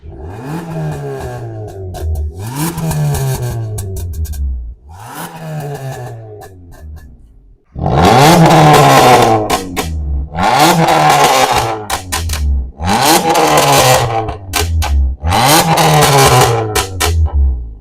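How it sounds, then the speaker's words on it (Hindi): A loud modified Maruti Ignis automatic revs hard several times in bursts through an aftermarket exhaust, each rev rising and falling, with a raspy, crackling note and short pauses between. "अभी एक बार एग्जॉस्ट चेक करते हैं इसका"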